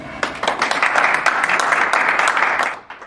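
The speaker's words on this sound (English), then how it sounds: "let's have a nice round of applause for Paul Combs" Applause for guest speaker Paul Combs at a talk on a jazz musician, a dense room-wide clapping that holds steady for about three seconds before tapering off.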